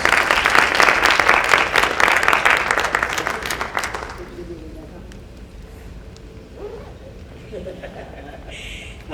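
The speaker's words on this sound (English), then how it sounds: "So let's give her a round of applause." Audience applause at a retirement celebration, a dense burst of clapping from a crowd that fills the first four seconds and then fades into quieter room murmur and scattered voices.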